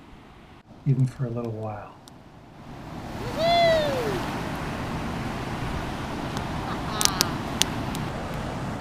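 Surf on a beach rolls in and washes up steadily, a broad rushing wash that swells and lingers, with a person speaking briefly near the start and faint chirps over the water.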